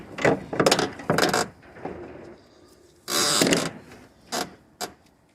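Work on the water pump of a Vauxhall Vectra B V6: a bolt is backed out with several short ratcheting and metallic clicking bursts, close by and intermittent, separated by quiet pauses.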